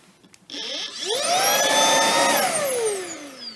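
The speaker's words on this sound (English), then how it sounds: "but you've also got a hand vacuum" A Shark IONFlex hand vacuum switches on and its motor spins up into a loud, rising whine that holds steady, then begins to wind down near the end. Nobody speaks over it.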